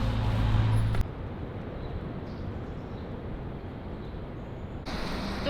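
A van drives along the road, its steady engine drone and tyre rumble filling the cabin continuously, with a brief louder stretch of wind and road noise at the start and end.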